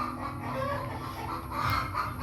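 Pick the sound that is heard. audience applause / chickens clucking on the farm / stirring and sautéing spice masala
chickens clucking on the farm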